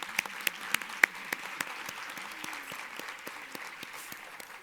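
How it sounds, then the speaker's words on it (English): Applause from an audience at an award gathering honoring the Sewing Sisters: steady clapping throughout with sharper individual claps standing out early, fairly close, no talking. "So one more round of applause for them."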